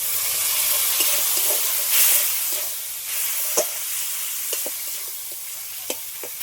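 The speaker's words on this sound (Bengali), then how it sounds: "এক চামচ ধনের গুঁড়ো, অল্প করে একটু জল দিয়ে দেবো।" Ground turmeric and coriander spices frying in a pan with a splash of water, a loud continuous sizzle and hiss with intermittent scraping stirs and light clicks, no voices.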